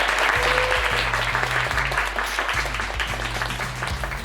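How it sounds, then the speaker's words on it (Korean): An audience at the 2019 PUBG Community Awards ceremony applauds in a steady, dense wash of clapping. Tonal background music plays softly underneath. "큰 박수로 부탁드립니다"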